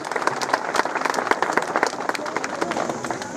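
A crowd at an outdoor political gathering in Himachal claps, a loose, uneven patter of many hands with sharper individual claps standing out, moderately loud, with faint voices mixed in.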